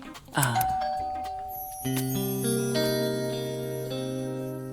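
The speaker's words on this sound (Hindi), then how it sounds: "तो बजा दे घंटी।" A doorbell chimes twice, the bright tones ringing out and lingering with a sustained, fading resonance.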